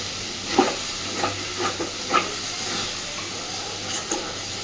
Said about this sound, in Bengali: এইবার খুব ভালোভাবে নেড়ে দেব। যেগুলো নিচে কড়াইতে লেগে গেছে হালকা করে একটু নাড়া দিলেই